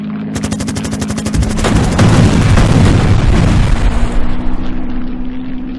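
Rapid machine-gun fire and heavy booming explosions erupt in a Battle of Britain air-combat video game, 303 Squadron, as a gunship is destroyed, a dense roar of shots and blasts building loud over an engine drone.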